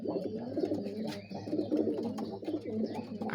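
Pigeons coo repeatedly in a low, throaty rhythm, several birds overlapping at close range with a steady murmur of background noise.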